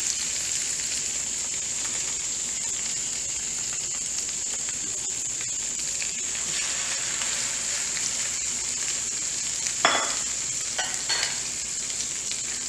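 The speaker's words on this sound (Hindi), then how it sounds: "इसको हम पकड़ कर अपने पैन में डाल देते हैं।" Egg-coated bread roll-ups fry in a pan with a steady, even sizzle that holds for the whole stretch, broken near the end by a few short clinks or stirs close by.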